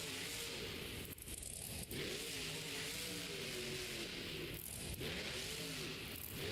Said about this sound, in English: Alright, turning the truck around.